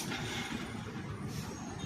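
A motorcycle engine that has just had timing chain work is self-started and runs with a close, steady, throbbing idle, alone without speech.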